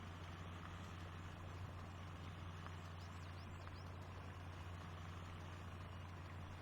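A 2018 Ram 3500 pickup's engine hums low and steady as the truck sits stuck in deep mud in the off-road game Spintires: MudRunner, heard as a faint, continuous rumble with no breaks.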